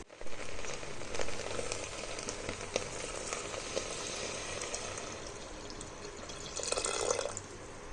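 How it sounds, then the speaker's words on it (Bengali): Water poured into a hot pressure cooker of dal on a gas stove, heard as a faint steady hiss and sizzle with light splashing and drips, swelling briefly near the end. "এবারে দিতে হবে এতে একটু জল।"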